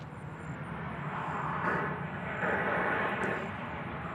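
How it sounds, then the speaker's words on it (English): A plane from Phoenix lands at Nashville International Airport, giving a loud, steady jet roar that swells slightly midway and holds throughout, with no talking. "As the plane from Phoenix lands"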